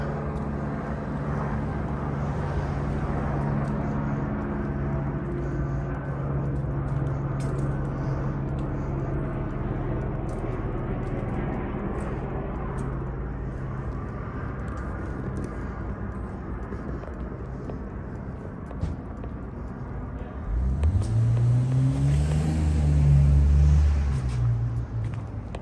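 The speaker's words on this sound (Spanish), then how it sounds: "Me perdona por el ruido que está haciendo el helicóptero ahí arriba." Helicopter flying overhead, a steady low rotor and engine drone throughout that swells louder and nearer toward the end with a rising, pulsing throb, no talk.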